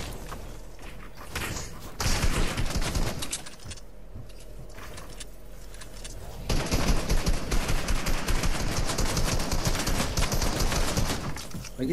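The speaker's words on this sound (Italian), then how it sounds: "Ma chi sta sparando?" Gunfire in Fortnite during a Zone Wars creative map match: dense rapid shots and clattering bursts, growing heavier and more continuous in the second half, loud and close.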